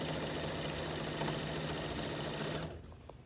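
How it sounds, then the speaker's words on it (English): A sewing machine stitches binding onto a quilt, running as a steady, close mechanical whir for most of the clip before stopping near the end. "And I'm just sewing on the fabric."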